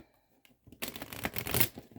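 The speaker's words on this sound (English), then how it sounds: "Let's give it a good shuffle." A deck of tarot cards is shuffled up close, starting with a few soft taps and then breaking into a brisk, steady riffle of flicking card edges.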